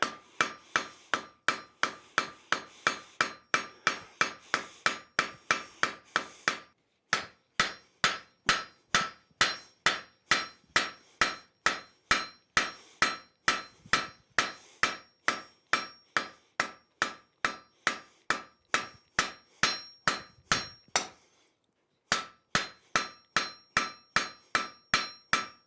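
A hammer forging a steel taper on an anvil: a long run of evenly spaced, ringing metallic strikes at a steady rhythm, close and loud, with two short pauses.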